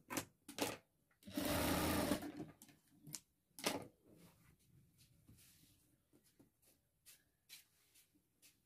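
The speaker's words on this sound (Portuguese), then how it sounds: "Vou abrir ele aqui, vou costurar." A sewing machine stitches bias binding onto a handbag strap: one sustained loud run of stitching near the start, then quieter handling clicks, taps and rustles of fabric.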